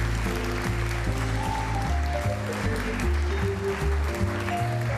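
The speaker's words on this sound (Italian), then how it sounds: "voi potete applaudire" An audience applauds at the 2019 Premio Medicina Italia award ceremony as a plaque is presented to a professor. The steady clapping runs throughout beneath sustained tonal sounds.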